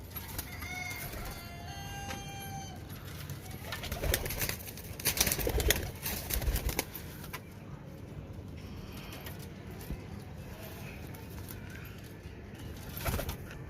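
Kasuri breeder pigeons of the dewlapped kind coo and call softly in a loft, the birds' repeated murmurs rising and falling with rustling and occasional louder bursts throughout.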